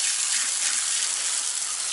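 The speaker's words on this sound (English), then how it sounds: "Make sure we get plenty of water in there." Water from a hose gushes steadily into an RB25DET engine head to flush out metal swarf, a close, continuous hissing splash with no pauses.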